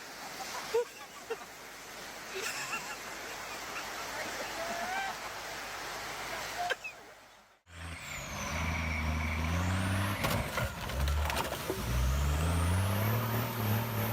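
Military truck pulling down a swimming pool: a heavy diesel engine rumbles and revs with grinding strain, after a splashing, rushing-water section, with voices talking over parts of it.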